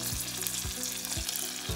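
Vermicelli frying in a small base of tomato sauce gives a dense, steady sizzle throughout, broken by a few soft stirring scrapes in the pan.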